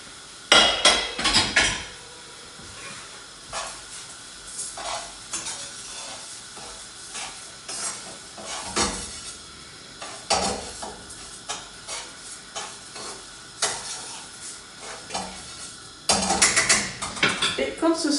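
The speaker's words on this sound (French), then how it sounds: "je vais du coup déjà ajouter mon riz aux petits oignons que j'avais mis un petit peu d'huile" Rice frying in a pan with onions in a little oil, with a quiet sizzle under repeated clacks and scrapes of the utensil stirring it, near and intermittent.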